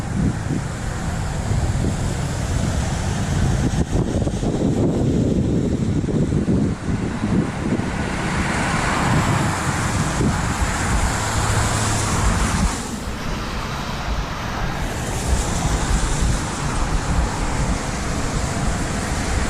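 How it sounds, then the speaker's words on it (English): Steady traffic rolling along a Dallas street at about 4 p.m., a continuous wash of car and bus engines and tire noise with wind buffeting the microphone, no single pass standing out. "They got a lot of vehicles coming down here."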